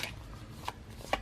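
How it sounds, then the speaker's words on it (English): Oracle cards are shuffled in a few quick, soft riffling bursts, close by and quiet. "So let's give them a good shuffle."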